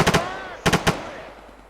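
Two short bursts of automatic gunfire in a video game, each about three rapid shots, loud and close, with a ringing tail fading between and after the bursts.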